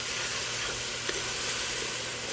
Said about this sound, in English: in goes our shrimp broth